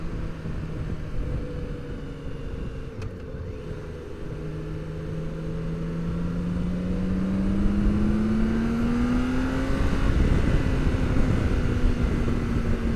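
A BMW K1600B six-cylinder touring motorcycle accelerates smoothly on the road, its engine pitch rising steadily through a gear change under loud, continuous wind rush, with no talking.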